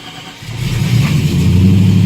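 A cold TVR Chimaera engine running on LPG in about 5.5 °C air cranks and catches, then settles into a steady, loud low-pitched idle that builds over two seconds with no talking.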